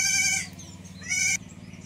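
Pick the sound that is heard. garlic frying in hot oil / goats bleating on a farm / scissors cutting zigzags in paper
goats bleating on a farm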